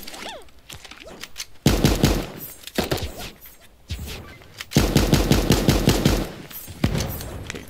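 Rapid automatic gunfire from the cartoon battle-royale game Super Animal Royale, loud bursts of machine-gun fire in several long strings separated by short pauses, close and sharp, with no voices.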